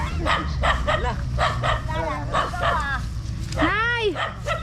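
A dog barks and yips in short bursts, with whimpering and a rising, wavering howl-like whine near the end, mixed with people talking close by.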